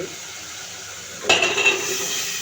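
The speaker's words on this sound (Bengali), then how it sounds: "আর একবার ভালো করে নেড়ে চেড়ে কষিয়ে নিচ্ছি" Dried fish (shutki) being stirred and fried in a pan with potatoes and long beans, a sudden scrape of the utensil followed by steady sizzling and soft clinking, close and alone without talk.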